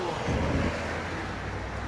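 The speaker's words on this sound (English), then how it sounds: "I see my bus and I just missed it." A city bus rolls past in street traffic, a steady broad rumble of engine and road noise holding close and fairly loud for the whole moment, with no voices over it.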